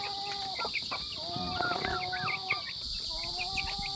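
Chickens and young chicks on a provincial farm cluck and peep close by, with repeated short chirping calls overlapping throughout against a steady background hum.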